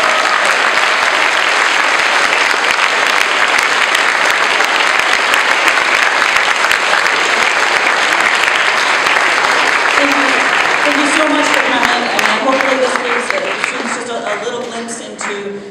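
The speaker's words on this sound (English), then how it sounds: "first we need to give a huge round of applause" A school innovation panel's audience breaks into a long burst of loud, dense applause that carries on steadily, then tapers off near the end as voices begin talking under the last claps.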